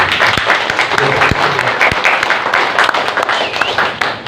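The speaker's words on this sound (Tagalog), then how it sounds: "Minsan pa ay palakpakan po natin ang ating Panginoon." A church congregation applauding together at a worship service, dense continuous clapping from many hands filling the room, loud and sustained throughout with a few heavier thumps.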